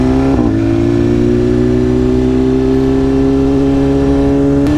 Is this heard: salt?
no